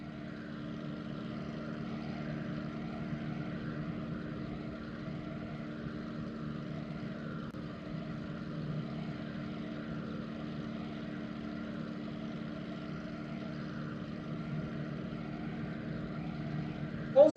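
A propeller-driven airliner such as a DC-6 sits before takeoff in a flight simulator, its engines giving a steady, low, even drone that holds throughout with a brief sharp noise at the very end.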